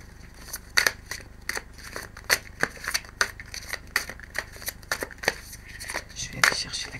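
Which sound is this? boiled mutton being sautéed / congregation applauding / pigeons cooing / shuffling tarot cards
shuffling tarot cards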